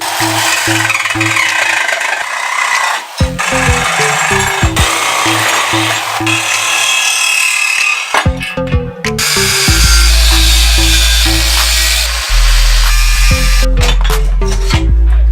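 Power tool cutting into the steel frame of a Honda 400 cafe racer project in a workshop, loud and continuous grinding with several abrupt stops and restarts, plus an intermittent low tonal hum underneath; no talking.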